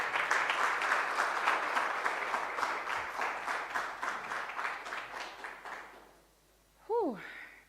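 An audience applauds at a talk, sustained rhythmic clapping that fades out after about six seconds, followed by a short vocal exclamation.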